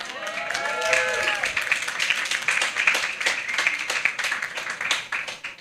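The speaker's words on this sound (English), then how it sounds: "She deserves a special applause for this." Audience applause at the IUCN pavilion during the CBD COP16 conference, a patchy spread of claps rising and falling for several seconds, with a voice briefly audible near the start.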